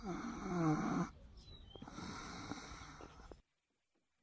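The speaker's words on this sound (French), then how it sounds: "Un petit cochon qui ronfle, c'est trop mignon." A piglet snores close by, one long raspy snort followed by softer wheezy breaths, then silence.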